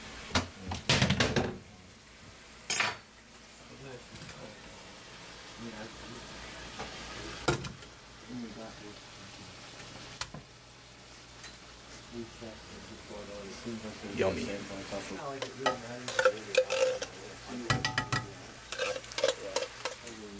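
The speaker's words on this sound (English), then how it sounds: "So yeah, duck's getting brown, noodles are boiling" Duck browning in a pan sizzles steadily while noodles boil nearby in a home kitchen, with occasional clanks of utensils and pans and people talking over the cooking.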